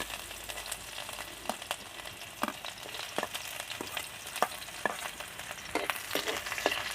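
Onion, garlic and chilli frying in hot oil in a wok: a soft, steady sizzle with repeated spatula taps and scrapes as the mixture is stirred, fairly quiet and without talk.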